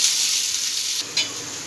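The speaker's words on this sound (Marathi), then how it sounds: "कांदा आपल्याला चांगला सोनेरी कलर येईपर्यंत परतून घ्यायचा" Onion sizzles in hot oil as it is stirred, a bright, close, continuous hiss with a brief stirring scrape near the end, and no voices.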